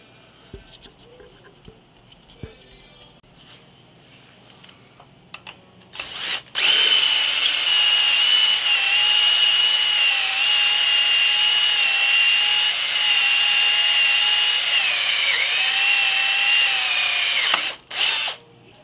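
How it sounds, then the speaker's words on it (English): A power drill whirs loudly and steadily for about ten seconds, starting abruptly and cutting off sharply, after a stretch of quiet background noise. "I'm going to run grab a drill and a drill bit"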